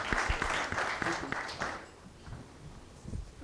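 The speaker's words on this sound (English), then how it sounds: "A round of applause for Guranchal, please." Conference audience applauding a speaker at a green hydrogen summit session, a dense burst of clapping that fades after about two seconds, with light room noise and a brief voice near the end.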